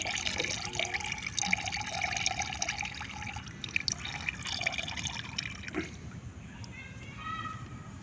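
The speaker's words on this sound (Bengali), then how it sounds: "এখন ঢেলে দেবো পাত্রের মধ্যে বালতির মধ্যে" Liquid medicine is poured into a bucket, a steady, trickling, splashing flow heard close by. A person talks over it, and the pouring tapers toward the end.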